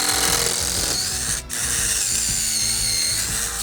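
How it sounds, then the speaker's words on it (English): A power drill bores holes into wooden deck blocking between joists. The motor whines steadily and close up, with a brief pause partway through, and no voices. "So I'm gonna drill 2 holes."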